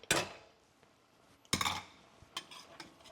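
Macaroni stirred into a thickened vegan cheese sauce in a pot, with two distinct spoon-against-pot scrapes and clinks followed by softer wet stirring knocks, close and alone.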